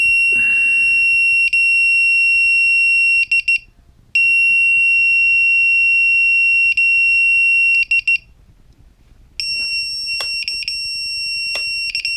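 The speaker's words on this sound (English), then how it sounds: "I have to set the buzzer up in beta flight." A drone's piercing high-pitched buzzer sounds in long continuous tones broken by short pauses and clusters of rapid beeps, loud and close.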